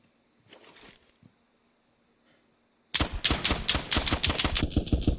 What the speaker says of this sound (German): Aber von wo kam der Schuss?